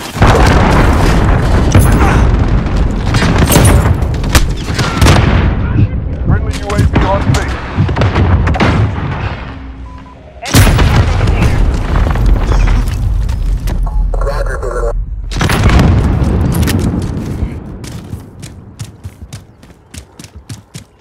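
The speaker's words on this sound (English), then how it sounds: "Enemy cruise missile incoming" Cruise missile explosions in the Shoot House map of an online shooter game come as repeated heavy booms and rumbling blasts, with mechanical clatter, gunfire and an in-game voice announcement, broken by a brief lull midway.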